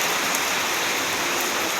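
Steady rain falling and pattering on surfaces outdoors at the onset of a shower, a dense, even hiss with occasional brighter drops and no voices.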